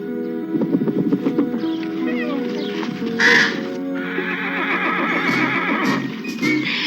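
A horse neighing and whinnying loudly at close range, with several shrill calls standing out against a steady background of music and bird-like caws.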